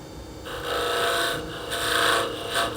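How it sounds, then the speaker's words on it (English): Skew chisel cutting a small wooden Christmas tree spinning on a woodturning lathe, a steady, loud rasping scrape that swells and eases in several long passes with no talking. "I can always come back with a skew chisel and just give that a little nick"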